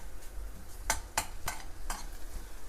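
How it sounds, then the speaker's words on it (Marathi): Garlic frying in hot oil in a pan for misal pav, a steady low crackle broken by several sharp scraping bursts of stirring in an uneven rhythm, close and moderately loud. "सो आता मी लसूण टाकते पहिली ह्यात तेलामध्ये आणि ती मस्तपैकी फ्राय करून घेणार आहे मी"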